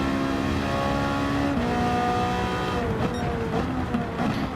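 A Ferrari 458 V8 swapped into an Alfa Romeo 4C, tuned to 740 hp, holds a steady high-revving drone through a flat-out corner in Gran Turismo 7, its pitch dipping and rising with gear changes and throttle.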